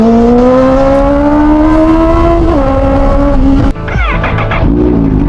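A Kawasaki ZH2 motorcycle launches under launch control, its engine screaming as it pulls hard and rising steadily in pitch, then snapping through an abrupt shift and revving up again, loud and close.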